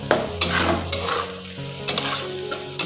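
Cashews and raisins fry in a pan with a steady close sizzle, punctuated by several clinking stirs of a utensil against the pan.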